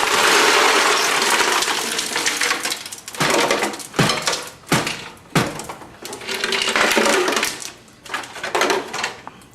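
Ice cubes tumble into a brine of apple juice and water, giving a run of loud, close clattering knocks and crunches in irregular bursts, with short pauses between handfuls.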